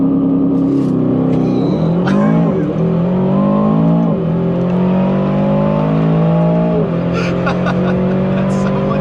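An Aston Martin DBX 707 accelerates hard in launch mode, its engine roaring close up and climbing through several gear changes in loud, rising sweeps.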